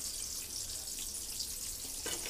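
Aubergine (brinjal) slices fry in a pan with a steady, close hiss of sizzling oil that runs unbroken for the whole moment, with no voices.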